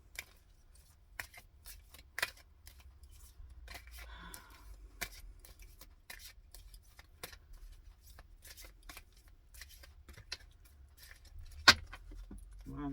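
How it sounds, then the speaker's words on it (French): Lenormand tarot cards shuffled by hand in a quiet room: a steady run of soft, crisp card riffles and snaps, with a few sharper clicks standing out and no talking. "Alors, je bats les cartes Mademoiselle Lenormand."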